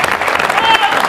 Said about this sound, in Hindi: एक बार रायपुर के लिए जोरदार तालियां बजाइए